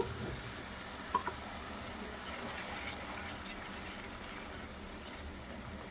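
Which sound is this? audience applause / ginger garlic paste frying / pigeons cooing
ginger garlic paste frying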